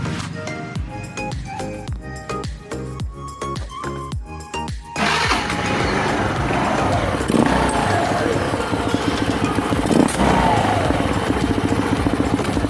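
A Kawasaki Curve motorcycle engine is cranked with a series of rhythmic turns, then catches and settles into a loud, steady close-up running drone that continues to the end.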